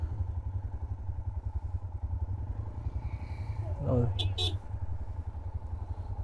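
A motorcycle engine pushed hard on a couple's coastal ride through the Konkan, droning loudly and steadily up close in a throbbing low rumble, with a brief clatter partway through.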